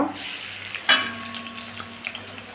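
Onion sautéing in hot coconut oil in an Indalium pan makes a soft, close sizzle with a brief sharper hiss near the start and faint clinks, with no voices.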